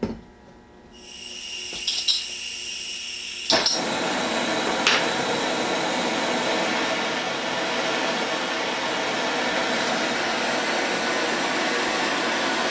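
A propane torch is lit and burns for annealing brass cartridge cases, starting with a sharp ignition pop and settling into a steady, loud roaring hiss that runs on unbroken with a few faint clicks.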